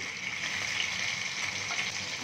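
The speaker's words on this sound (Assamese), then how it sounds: "এতিয়া মাছৰ মূৰকেইটা ভাজি ল'ম" Fish heads frying in mustard oil in a kadai give a soft, even sizzling hiss that stays level throughout, fairly quiet and without other sounds.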